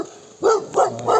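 Dogs at a rainbow trout farm give three loud, close barks in an even rhythm, with faint background noise between them.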